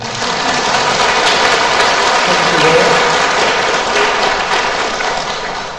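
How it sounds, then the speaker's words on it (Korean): A congregation at a Catholic parish retreat lecture gives loud, continuous applause, a dense wash of clapping that holds steady throughout and fades slightly at the end. "이분들 박수 한번 쳐주세요"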